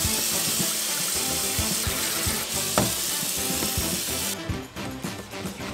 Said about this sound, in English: I will go ahead and soak this in some water